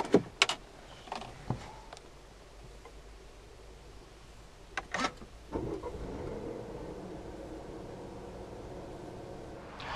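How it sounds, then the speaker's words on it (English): A 2018 Volvo V40 T4 heard from inside with the door closed: a few sharp clicks and clunks, then the engine catches and settles into a quiet, steady idle hum. "let's start it up with the door closed."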